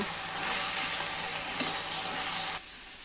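Banana flower frying in hot oil for a vegetarian mocha ghonto, a steady close sizzle with faint stirring that drops off sharply near the end.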